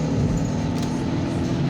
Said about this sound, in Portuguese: Olha o ronco do motor